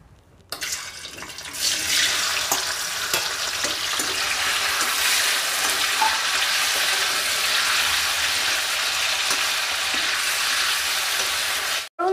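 Paneer fries in hot oil in a kadai with a loud, dense, continuous sizzle that swells after a quiet start and holds steady for about ten seconds before it stops abruptly.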